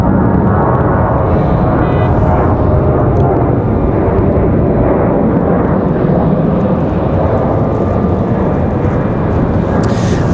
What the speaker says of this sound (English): So Delta off to Atlanta.